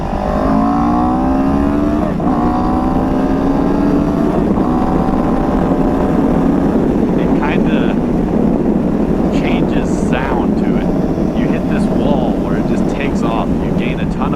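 CFMoto 700 CL-X motorcycle engine pulled hard at full throttle, a rising engine note climbing through the gears, loud and continuous under heavy wind rush while riding.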